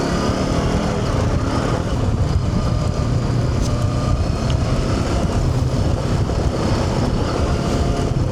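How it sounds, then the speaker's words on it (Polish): The exhaust of an MBP Morbidelli T502X motorcycle with a 47 hp engine rumbles loud and steady throughout, a dense continuous roar with no gaps. "A jeśli chodzi o wydech, to ocencie sami jego pracę"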